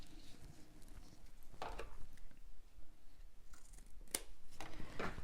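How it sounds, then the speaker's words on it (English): Scissors trim a length of elastic for bra sewing, giving several short, crisp snips spaced irregularly over faint background noise. "take the other side of my elastic, the free end, and just trim off the same amount"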